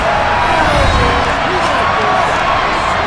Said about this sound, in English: Shouts from this crowd as they watch the replay.